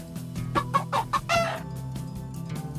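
Rubber chicken knife squawking, a burst of several quick loud squeaky clucks and a strained squawk close up, then a low steady hum, with no talk.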